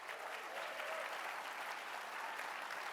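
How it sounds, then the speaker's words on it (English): Audience applause at the opening of a 2024 summer conference, a soft but continuous patter of many hands clapping, heard from some distance and steady throughout. "give a little clap"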